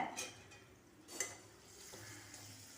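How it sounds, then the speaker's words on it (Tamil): Onions and pounded spices are stirred in hot oil in a pan, giving a faint sizzle with a couple of quick scraping clinks of a spoon against the pan. "வெங்காயம் கொஞ்சம் கலர் மாதிரி வந்ததுக்கப்புறமா நச்சு வச்சுருக்க எல்லா பொருட்களையும் இதோடு சேர்த்து நல்லா வதக்கி விட்டுக்கோங்க."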